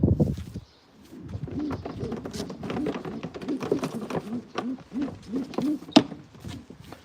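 Black racing pigeons coo in soft, repeated rolling calls, several birds overlapping close by, with a brief rustle at the start.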